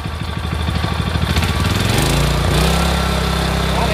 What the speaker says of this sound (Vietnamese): Bây giờ mình sẽ test ga cho anh em xem nha.